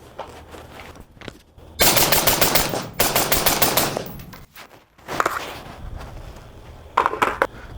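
Suppressed gunshots from a Silencer Central Banish Speed K at an outdoor range, several sharp bursts of rapid shots in clusters separated by brief pauses, close and loud.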